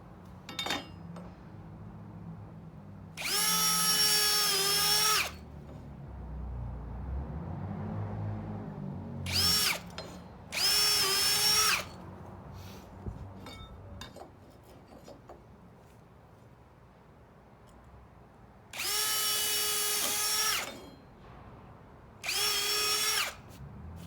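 A power drill drives screws into plastic decking joists in several loud, steady bursts of a few seconds each, with quieter handling and rubbing noises between them.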